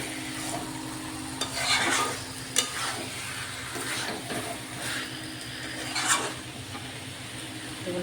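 Chicken sautés in a pan with potato and papaya, a continuous close sizzle under repeated scraping and stirring strokes of a spatula, with a few louder scrapes.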